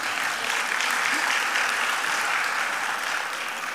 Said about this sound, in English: Okay, clap for her then.